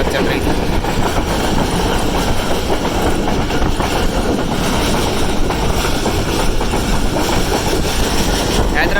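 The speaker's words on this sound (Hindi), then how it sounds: "जबलपुर से निकलने के बाद अब थोड़ी स्पीड पकड़ी है ट्रेन ने" A passenger train runs at about 80-85 on rough track after leaving Jabalpur, heard from inside as a loud, constant rumble with rapid wheel clatter throughout.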